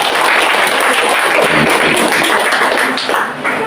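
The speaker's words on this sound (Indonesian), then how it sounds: "Tepuk tangan dulu." Audience applause at a primary school semester showcase event, dense close clapping sustained for several seconds, loud and even before tapering slightly at the end.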